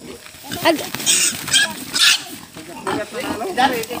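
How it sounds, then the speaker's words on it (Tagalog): A pig being carried squeals and grunts in repeated loud, strained bursts close by, while people talk over it, on a family outing to Mahayag, Alicia, Bohol. "si Wuwog, pasaan mo nos baboy"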